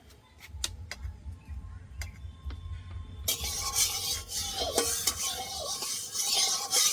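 Mustard oil poured into a hot wok for a pangas fish curry, a sudden broad hiss and crackle that starts partway through and stays loud and steady, after faint ticking kitchen sounds.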